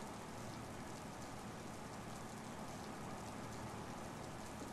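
Rain in Flight Simulator X pouring steadily onto a PA-24 Comanche parked on the ramp, a dense even hiss of falling drops with no voices.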